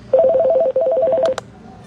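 A quick series of short electronic beeps alternating between two pitches, a brief pause, then more beeps, ending with a couple of sharp clicks.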